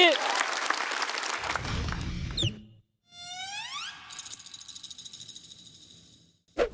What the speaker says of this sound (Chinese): 掌声有请林简七